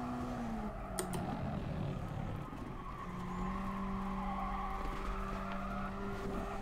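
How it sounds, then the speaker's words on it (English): Simulated race car in Gran Turismo Sport braking hard, a steady engine drone with long sliding tire squeal tones and brief clicks, continuous and fairly loud with no talking. "Hard braking."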